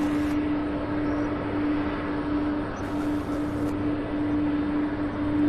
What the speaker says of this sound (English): Coming in for a landing now on short final, we have UPS 2591 out of Billings